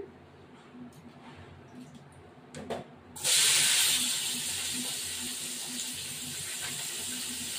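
Fried onion drops into a hot pan of oil for a thin mutton curry, setting off a sudden loud, sustained sizzle that holds steady and eases slightly after a few seconds of quiet kitchen background.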